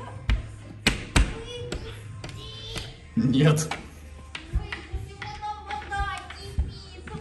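Someone bangs on a door in sharp, irregular knocks and thuds, close and loud, with a heavier burst of pounding partway through and people talking over it.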